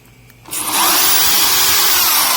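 A power drill, hammer mode off, spins up from quiet and settles into a steady, loud high-pitched whine, smooth and continuous with no hammering clatter.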